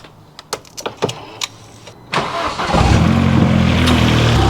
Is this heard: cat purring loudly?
no